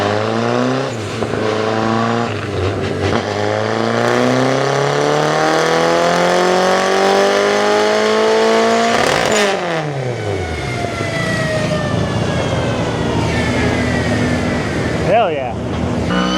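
Car engine revving hard through a dyno pull at a Grid Life event, climbing steadily in pitch for several seconds, cutting off sharply, then falling back to a lower rev, loud and close with voices over it.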